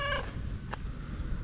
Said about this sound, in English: What a lovely cat.